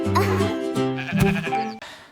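A sheep bleats loudly several times in quick succession, wavering and nasal, close up with no talking.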